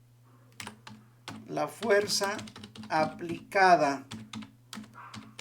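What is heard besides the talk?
typing on a computer keyboard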